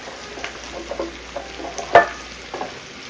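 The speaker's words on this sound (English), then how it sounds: "Mix everything up really, really good" Diced potatoes being stirred into sizzling onion and garlic in a pan, soft sizzle under repeated spatula scrapes and taps, with one sharp clank in the middle.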